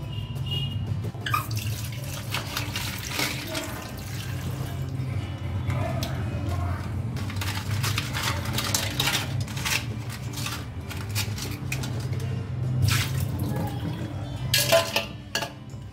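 Tap water runs steadily into a sink while cleaned crab is rinsed for a crab masala. Pots and pieces clatter and knock now and then over the constant flow.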